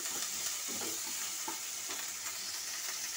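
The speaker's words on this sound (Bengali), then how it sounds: "আদা বাটাটাকে আমি ভালো করে নেড়ে নেব" Ginger paste fries in a pan for a silver carp and potato curry, a loud, dense sizzle running throughout with soft scraping stirs of a spatula, close up and uninterrupted by speech.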